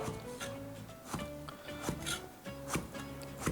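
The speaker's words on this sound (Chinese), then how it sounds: "我今天用的是这个焯过水的春笋，改刀我们切成这种菱形块" Blanched spring bamboo shoots being cut into diamond-shaped pieces with a knife on a wooden board, giving a steady run of close, crisp chops with rubbing scrapes between strokes and no talking.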